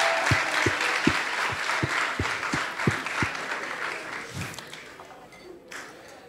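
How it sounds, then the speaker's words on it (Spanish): A studio audience claps, a few distinct rhythmic claps at first thickening into general applause that gradually fades away toward the end. "Aplauso para ustedes que están acá"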